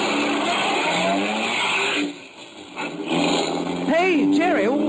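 A car engine hums and revs up, with tires squealing briefly near the end as the vehicle pulls away, in a 1949 radio detective drama.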